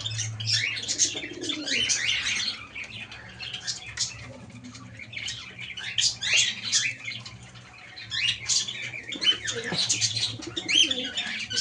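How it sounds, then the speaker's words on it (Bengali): Lakka pigeons pecking scattered grain beside budgerigars, with near, busy chirping and twittering of the small birds in bursts over a low steady hum, plus soft wing flutters. "এই যে এখানটা বদ্রি পাখি আছে, ওদের দানাগুলো এখানটা পড়ে, ওরা খুঁটে খুঁটে খাচ্ছে"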